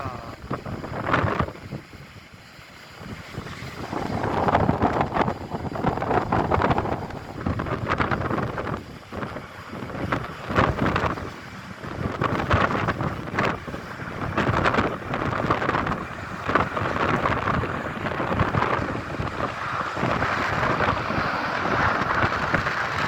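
A Boeing 737-900ER jet takes off in a strong crosswind at Luton Airport, its engine roar buried in heavy, gusty wind buffeting on the microphone that surges and dips throughout.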